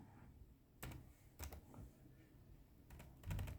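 A few faint, scattered keystrokes on a computer keyboard in quiet surroundings, sharp taps arriving singly and in a quick closing cluster.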